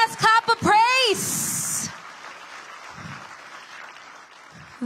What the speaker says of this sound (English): let us just give God the best clap of praise